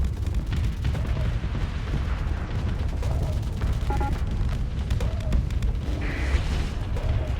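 Ship weapons firing in the Starsector space combat game, a dense continuous barrage of booms and shots under steady low rumble, with short tonal blips of interface or weapon sounds recurring throughout.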